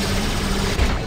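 Enemy robots firing in the War Robots game: a brief, dense burst of rapid gunfire with a heavy low thump, loud and close, with no talk.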